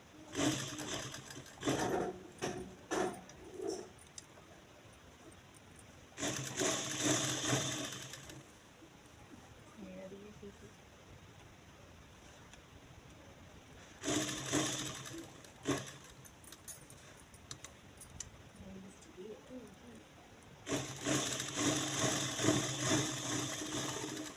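A sewing machine runs in short bursts while stitching a kurti in a Delhi boutique, each whirring run separated by quiet pauses, faint and steady throughout.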